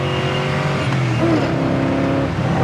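Close and loud, a 1969 Chevrolet Chevelle SS 396 convertible's V8 accelerates hard, its engine note climbing through a gear change in one continuous roar.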